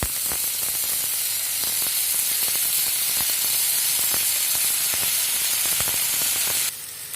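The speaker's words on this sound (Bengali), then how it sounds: "লাল লাল করে পেঁয়াজ ভাজার পরে আদা রসুনের পেস্টটা দিয়ে দিচ্ছি" Ginger garlic paste fries with browned onions in mustard oil, producing a loud, steady hiss with rapid crackling and intermittent stirring clicks, easing off at the very end.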